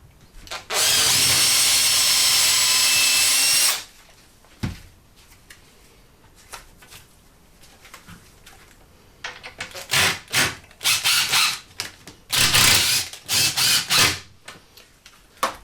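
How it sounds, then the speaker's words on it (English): An electric drill bores into a wooden frame, running loudly for about three seconds, followed by quieter handling sounds and then a series of short, stop-start drilling bursts. "I'm just going to drill the last hole."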